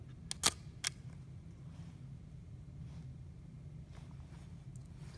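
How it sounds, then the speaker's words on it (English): A vintage Kodak Retina IIa folding camera fires its shutter: a couple of sharp, close mechanical clicks near the start against a low background hum. "push the shutter button to take the picture"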